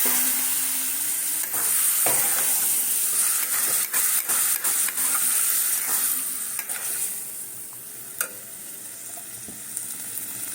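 Potato curry sizzling and hissing loudly in a hot pan after a splash of water goes in, steamy crackle with scattered stirring knocks, gradually easing, no one talking.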